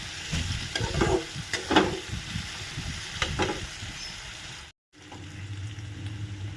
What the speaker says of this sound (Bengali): পেঁয়াজ আলু লঙ্কা সমস্ত কিছু যখন প্রায় আধা আধি ভাজা হয়ে যাবে